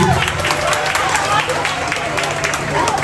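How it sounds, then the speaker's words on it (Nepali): An audience claps to welcome a guest onto the stage at a Zumba instructor licensing event. The applause is loud, dense and sustained, with crowd murmur mixed in. "जोरदार तालीले उहाँलाई स्वागत गराउनु कृपया प्लिज"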